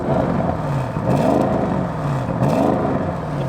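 A sports car engine revs with its exhaust valve open, a loud, rising and falling exhaust note, several swells close by.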